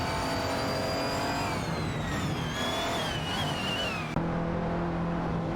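McLaren 675 LT and Lamborghini SC18 race cars in a racing video game, engines droning steadily with rising whine and gear shifts throughout, a sharp change near the end, no talk.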